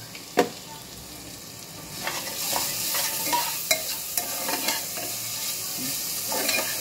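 Mixed vegetables sizzle in hot oil in a pressure cooker while a utensil stirs and scrapes with occasional sharp clinks, close up.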